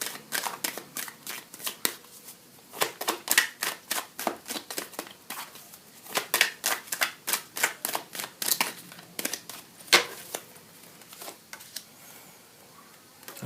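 Tarot cards are shuffled by hand for a reading, a fairly close series of quick papery riffles and flutters in irregular bursts, each separated by short pauses, heard alone without talk.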